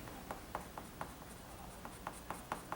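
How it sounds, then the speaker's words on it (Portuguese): Marker pen tips stroke across paper in a steady series of soft, scratchy swipes while a flower is colored in. The strokes are quiet and close, repeating about every quarter second, with no voice. "Você pode colorir com canetinha, com canetas marcadores Copic"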